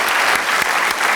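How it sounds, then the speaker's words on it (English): Studio audience at a BBC Radio 4 comedy chat show breaks into steady, dense applause, a continuous wash of many hands clapping at close range, loud and unbroken for the whole moment. "Well, give a round of applause."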